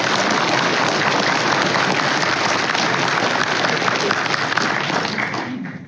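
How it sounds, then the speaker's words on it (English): An audience at a Dark Knight Returns 40th anniversary comics panel breaks into loud, sustained applause that fills the room for several seconds before tapering off at the end. "Yeah, you can clap for that."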